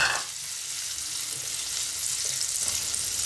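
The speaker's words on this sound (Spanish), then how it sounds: "Ahora colocamos las gambas en la sartén, añadimos un poquito más de aceite si es necesario, un poquito de sal y las salteamos ligeramente" Shrimp sauté in hot oil with a pinch of salt in a frying pan, giving a steady, close hissing sizzle. Faint stirring scrapes come through now and then, and no one speaks.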